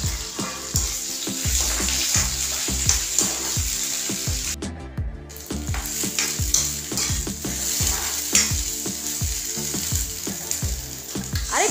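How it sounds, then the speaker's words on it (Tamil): Sautéed okra is stirred into a cumin tempering in a pan for a hotel-style gravy: a loud, continuous sizzle cut by regular scraping strokes of a spoon, with a brief pause partway through. "அந்த வதக்கின வெண்டைக்காயை அதில் போட்டு நன்றாக கிளறி கொள்ள வேண்டும்"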